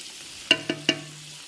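Biryani ingredients with tomato paste being stirred and mixed in a pot, three quick metallic scrapes close together over a faint background sizzle, with no talk.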